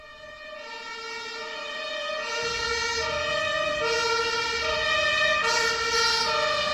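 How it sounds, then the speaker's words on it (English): A German ambulance siren wails in a repeating two-tone pattern, growing louder as it approaches and holding strong and clear with nothing else over it. "it's a European ambulance. European, okay. Specifically German"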